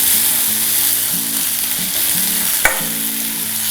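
Onions and drumstick leaves fry in a pan with a steady close sizzle, broken by a few scraping stirs and one sharp clink near the end, with no one talking.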